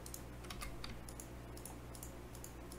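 Quiet, rapid clicking and tapping on a computer mouse and keys during a Minecraft game, a steady run of small sharp clicks over a low background hum.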